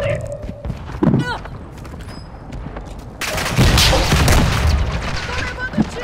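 Gunfire in the Warzone video game: scattered shots and bursts, then a loud sustained volley of rapid fire and booms in the second half, with a voice speaking over the action.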